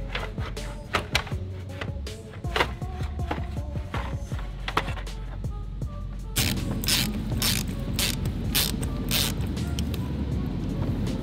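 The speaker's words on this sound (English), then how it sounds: "let me grab a T25 and I'll get this fan pulled" A hand ratchet with a T25 bit clicks in quick bursts while removing radiator fan bolts during an intercooler install on a BMW N54/N55 engine, close and crisp, with pauses and a few metallic clunks.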